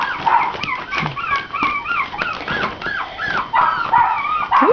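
Havanese puppies barking and whimpering, a busy overlapping chorus of high yips, whines and little barks close by, continuing without a break.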